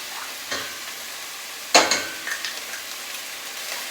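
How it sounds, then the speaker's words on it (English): Green curry paste sautéing with vegetables in a pan for Thai green curry: a soft sizzle under a few scraping stirs and clicks of a utensil against the pan, close up with no voices. "with this curry paste, you want to just saute it with your vegetables"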